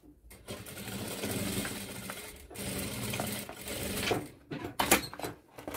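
A sewing machine runs in bursts as it stitches through a milk carton box covered in fabric. The needle chatter is moderately loud and close, with pauses and a few sharp clicks near the end.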